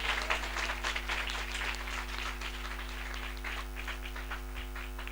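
A congregation at a church gathering claps together, a dense, even wash of applause held for several seconds, with a steady low hum underneath.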